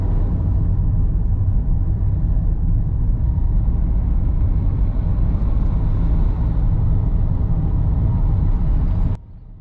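A car drives out of the village of Ludborough along the former main road, its steady low engine and road rumble heard from inside the cabin, constant and loud until it cuts off near the end.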